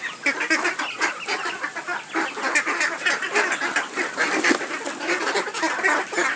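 A flock of three-month-old ducks and chickens feeding on paddy at a farm, with dense continuous quacking and clucking close by, no human voices.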